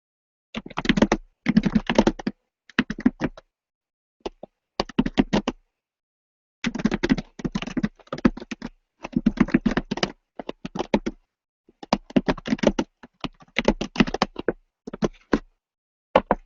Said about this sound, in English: I'm going to take a second here and type up a quick tweet, send out to all our followers